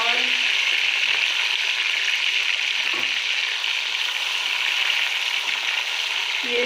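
Chopped onions already browned and freshly cut tomatoes frying in hot oil in a pan, a loud, steady, close sizzle that carries on throughout with faint stirring knocks.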